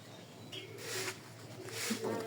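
Soft racing pigeon coos rise a few times over a steady hiss of background noise, faint and fairly close.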